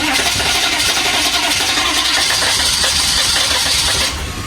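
A 1985 GMC Suburban diesel engine cold-starts and runs loud and rough with a steady, close clatter that holds almost throughout, easing slightly at the very end.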